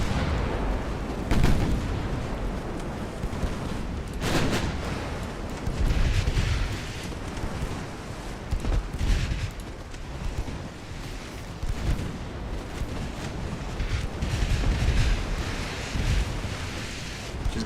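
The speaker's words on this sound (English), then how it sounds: "Those 6-inch chasers firing at her." Six-inch chaser guns firing in the naval game Ultimate Admiral: Dreadnoughts, Germany 1890: repeated dull booms recur irregularly over a constant rushing, wind-like roar of sea and battle noise, no speech heard.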